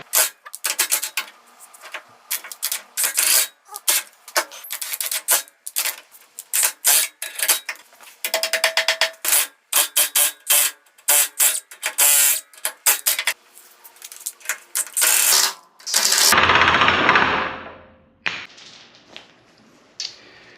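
Metal tapping and scraping ring out while a rusted bushing is pushed from a truck frame shackle on a 1953 GMC Hydra-Matic truck, irregular sharp clicks and knocks in bursts, ending with a longer loud grinding rush and a fading hiss.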